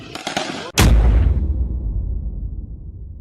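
Gunfire from armed bandits on motorcycles in a town in Sindh, Pakistan: a loud sharp shot cracks after some earlier bursts, followed by a long rumbling echo that slowly fades.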